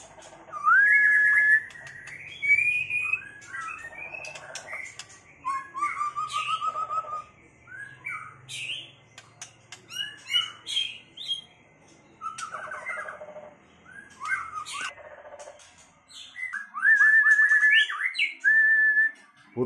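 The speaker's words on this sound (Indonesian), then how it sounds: "burung narung sehat mulus tinggal dikondisikan." A caged black-naped oriole, about seven months old, sings a series of clear fluting whistles and short calls at close range, in separated bursts with quiet gaps.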